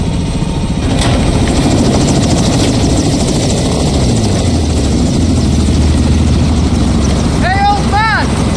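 A helicopter in the Call of Duty Modern Warfare II campaign gives off a constant heavy rotor and engine roar that fills the whole scene. Near the end, short rising chirps sound over it.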